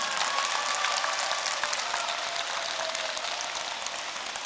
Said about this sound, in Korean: 적당히 박수 한번 치고 딱 지나가잖아